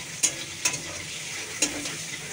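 Vegetables frying in a hot pan before ash gourd goes in, a steady close sizzle broken by three short scraping stirs, no voices.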